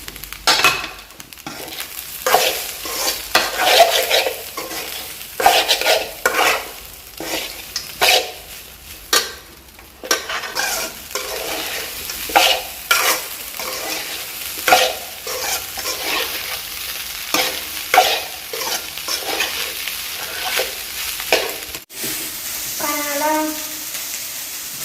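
Egg rice being stirred and fried in a pan at home, a steady run of scraping spatula strokes over continuous sizzling, close and fairly loud throughout, with a brief high clatter near the end.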